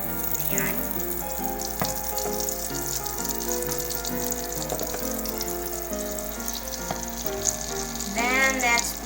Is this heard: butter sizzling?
yes